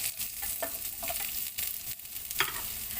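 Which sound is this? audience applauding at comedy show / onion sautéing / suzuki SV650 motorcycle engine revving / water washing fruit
onion sautéing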